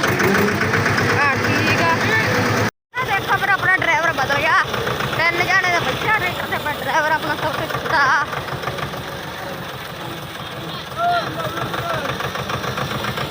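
A tractor engine idling nearby with a steady low chug and knock, people talking over it, and a brief dropout early on.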